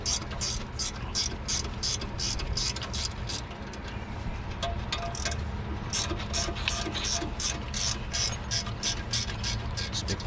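A ratchet with a 13 mm socket works brake caliper bolts on a 2010–2016 Mercedes E350, giving a fast, regular series of crisp clicks close up, pausing once midway before resuming.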